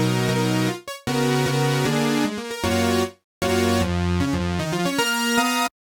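Bright sawtooth synth lead processed with slow, medium-depth chorus, playing a short melodic line of sustained notes broken by brief pauses, loud and close.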